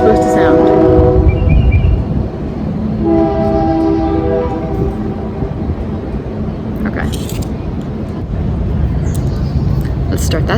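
A train horn blows loudly in several long blasts, each with a different tone, over a continuous rumble of moving rail cars. A person speaks in between.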